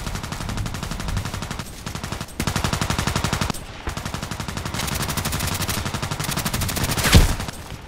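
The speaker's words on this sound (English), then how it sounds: "This guy, with the Cobra. My goodness, it's such a powerful weapon." Rapid automatic fire from the Cobra weapon in the shooter game Contract Wars, sustained bursts of dense gunshots with brief pauses, loud and close, ending in a single sharper shot.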